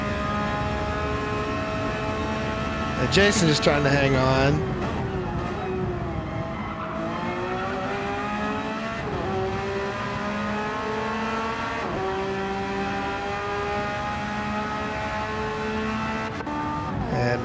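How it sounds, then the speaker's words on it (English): Race cars in a classic racing video game at Interlagos roar continuously, engines revving and shifting pitch through corners, with a brief burst of tire squeal early on and a commentator talking over the action. "You can hear the tires squealing every time he turns."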